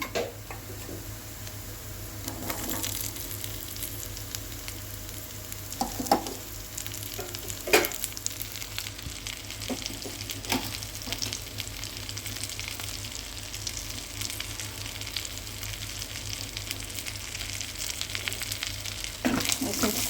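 Onions frying in a pan with raw prawns, a steady low sizzle running throughout with occasional brief clicks and stirring scrapes, fairly quiet and close, with no talking.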